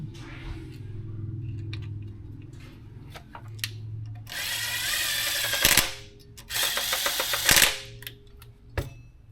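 Bolts on a 2.5L engine swap's tensioner in an NC Miata being run down with a power tool, two loud buzzing bursts of a few seconds each, close up, between scattered clicks and metallic taps.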